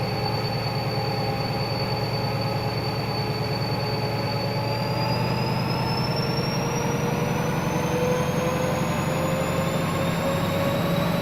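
Valenta-engined HST train running in Train Simulator, a steady loud mechanical drone with rhythmic wheel beats and a sustained high whine that slowly rises in pitch.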